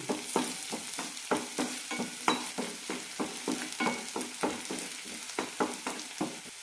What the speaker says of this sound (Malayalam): ലോ ഫ്ലെയിമിലിട്ടാണ് വഴറ്റിയെടുക്കുന്നത്